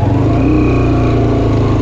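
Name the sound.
jeep engine climbing a rocky mountain track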